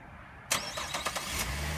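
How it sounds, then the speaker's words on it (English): A 2013 Chevy Traverse engine starting via remote start: a sharp crank and catch half a second in, then a brief rising rev that settles into a steady, fairly quiet idle nearby. "So you can hear the car starts right up."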